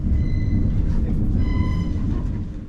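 A GWR train pulls out of London Paddington with a steady, loud rumble of wheels and machinery close by, and no talking.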